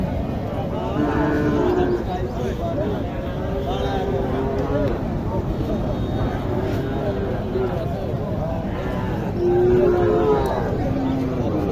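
Sahiwal cattle lowing at a busy cattle market, repeated loud moos from nearby animals over constant crowd chatter and background bustle.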